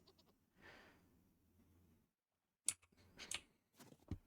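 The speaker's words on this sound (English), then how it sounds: "there's that goat I've been hearing" A goat bleats in the survival game Vintage Story, a few short, moderately faint calls in the second half after a quieter stretch of low ambient rumble.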